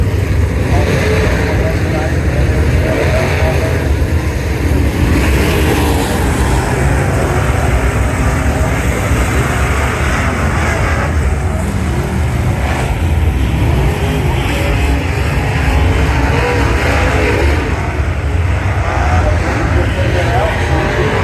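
Late model race cars roar together at the start of a night race, a loud, dense, unbroken engine wall that holds steady throughout, with voices mixed faintly into the din.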